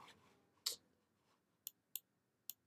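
A few sharp, separate clicks from a computer keyboard sound at close range, spaced irregularly over a quiet background.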